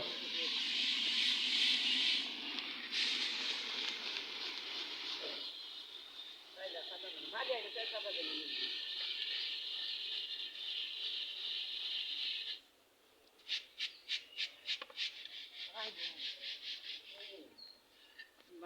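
Puffed rice (muri) frying in hot sand, a steady bright sizzling hiss that fades midway, then a run of rapid popping crackles near the end.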